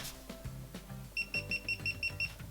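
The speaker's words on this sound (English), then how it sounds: "and it beeps to tell you it's gone off." A fishing camera switched off gives a rapid series of about seven short, high electronic beeps in even rhythm, close and clear over faint background noise.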